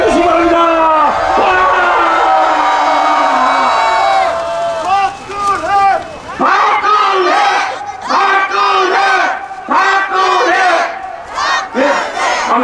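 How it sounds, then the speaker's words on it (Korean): A large crowd at an outdoor political rally in Cheonan roars in answer, sustained shouting and cheering that swells, breaks off briefly, then surges again in loud waves for several seconds. "동의하시면 태극기와 함께 함성으로 응답해 주시기 바랍니다."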